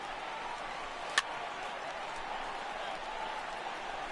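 Stadium crowd in MLB The Show 18, a steady far roar of cheering and applause from a big ballpark crowd, with one brief sharp tick near the start.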